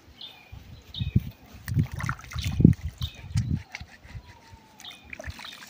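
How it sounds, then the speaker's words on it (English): Vegetables are swished and rinsed in water, giving irregular close sloshes, splashes and trickles in short bursts, with light clatter and quiet background sounds between. "right now I'm just gonna wash them and then cook them"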